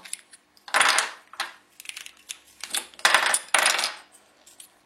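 Loose plastic pieces of a disassembled 3x3x3 Rubik's cube are stirred together by hand, making bright clattering rattles in several bursts of varying length.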